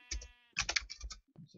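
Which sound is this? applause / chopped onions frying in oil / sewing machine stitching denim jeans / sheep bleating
sheep bleating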